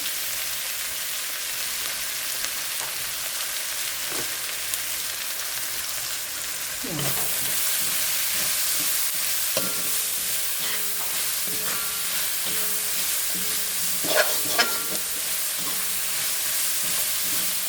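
Potatoes and drumsticks frying in a pan, a steady hiss of sizzling oil that grows a little louder partway through, with a few soft scrapes of stirring, quiet and even.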